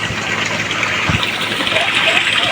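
Steady broadband rush of strongly flowing water after heavy rain, loud and continuous, with a low engine-like hum mixed in, during the draining of a well.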